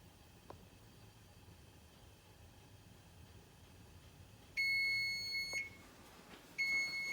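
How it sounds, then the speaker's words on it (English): A kitchen timer going off during cookie baking, a thin high electronic beeping that starts partway through, one long beep followed by a shorter one, over a quiet room. "Okay, that's the timer."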